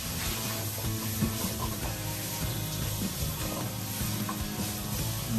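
Lamb shanks sauté in a pan with Greek seasoning and garlic, giving a faint, steady sizzle with small scattered pops and crackles, alone and without talk.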